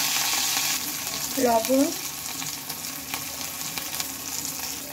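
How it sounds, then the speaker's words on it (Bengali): Ground spice paste and turmeric sizzle and fry in hot oil for a Bengali coriander-leaf chop, a steady close crackle with a brief stirring scrape midway and a short spoken word. "ওই তেলে দিয়ে নেব এখন হচ্ছে কিছুটা মশলা। বেটে রাখা মশলা দিয়ে নিলাম।"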